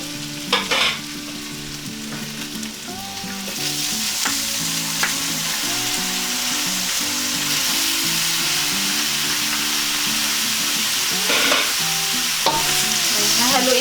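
Beef stirred into softened onions in a hot pan sizzles and spits steadily over a long stretch, broken by the scrape and clatter of a spatula now and then, with soft music underneath.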